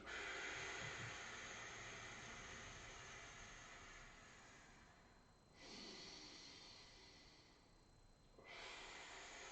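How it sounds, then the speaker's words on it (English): A person exhales all the air out through pursed lips in a workout breathing exercise: long, faint hissing breaths, close and quiet, repeated three times with brief pauses, no talk. "and then breathe all the air out."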